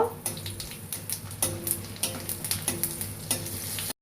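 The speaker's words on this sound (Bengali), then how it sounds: "এবার ওই তেলের মধ্যে আমি দিয়ে দিলাম 5 ফোড়ন, শুকনো লঙ্কা আর তেজপাতা। এটা লাল লাল করে ভেজে নেব।" Panch phoron spices, dried red chillies and bay leaves sizzle in hot oil, with a steady frying hiss broken by repeated scrapes and clinks of a spatula stirring the pan, close up and without talk.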